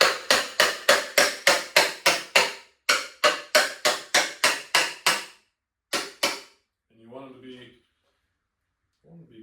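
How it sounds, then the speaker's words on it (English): A hammer pounds fuel rails onto a plastic fuel jug for an Arctic Cat Catalyst snowmobile, a fast run of sharp, evenly spaced blows with a short pause, then a few more strikes and a brief voice. "I'm going to pound those fuel rails on it."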